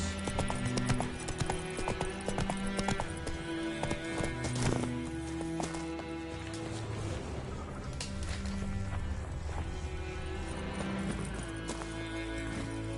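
Roach, the horse in the video game The Witcher 3: Wild Hunt, gallops with a fast, steady clip-clop of hooves close by. A brief whinny and background game music are also heard.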